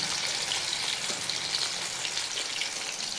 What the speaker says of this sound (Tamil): இருக்கிற 65 நாங்கள் போட போகிறோம். போட்டு வறுத்து எடுத்துக்கிறோம்